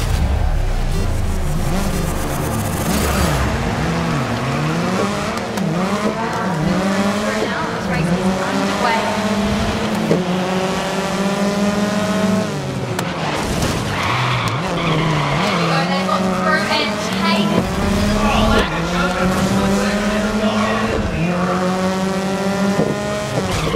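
Race cars roaring and skidding at the start of a race in the Grid video game on Xbox Series X, loud continuous engine whine with shifting revs and tire squeals throughout.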